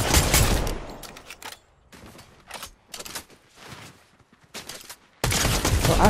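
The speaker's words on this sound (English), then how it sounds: "I sniped him. I just couldn't get another snipe on him." Sniper rifle gunfire in Fortnite: loud, sharp shots open and close the stretch, with fainter scattered reports and clatter in between.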